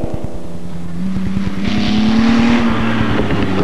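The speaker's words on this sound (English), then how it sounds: "The sports cars feature the V8 Cobras," V8 Cobra sports cars racing in the 1992 Targa Tasmania: loud, close, rapid engine pulses climb and fall in pitch through a brief burst of revving and passing.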